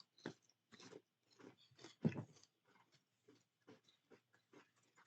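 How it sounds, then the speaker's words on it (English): Close, crunchy chewing and biting on mini chips by a few people, irregular bites and crunches with one louder crunch near the middle, with no talking. "Enjoy us chewing there for a second"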